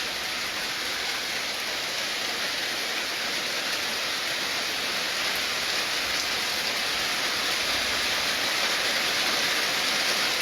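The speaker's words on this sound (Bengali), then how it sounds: "প্রচুর বৃষ্টি, প্রচুর বৃষ্টি।" Heavy downpour at a river ferry ghat on the Baleshwar River bank, a dense, loud, continuous rush of rain with no breaks.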